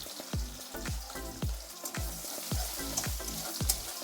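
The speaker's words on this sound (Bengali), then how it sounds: "তেলটা গরম হয়ে গেছে, দেখুন আমি অনেকটা রসুন থেতে করে নিয়েছি।" Crushed garlic fries in hot oil with a crackling sizzle, broken by regular scraping stirs roughly every half second, close and fairly quiet.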